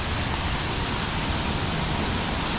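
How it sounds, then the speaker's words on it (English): Waterfall in a garden pours in a steady, dense rush of broadband water noise, close and continuous throughout with no voices. "This is the waterfall."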